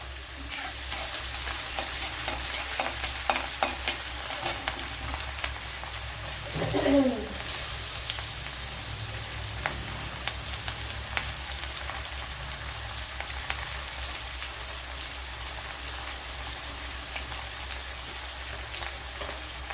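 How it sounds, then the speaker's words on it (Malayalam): Garlic, ginger and green chili fry steadily in a pan, a continuous close sizzle with faint stirring scrapes and one brief louder clatter partway through; no talking. "ഒരു എട്ട് പത്ത് വെളുത്തുള്ളി ഇച്ചിരി വലിയൊരു പീസ് ഇഞ്ചി ഒരു പച്ചമുളക് ഇത്രയൊന്ന് മൂപ്പിച്ചെടുക്കണം"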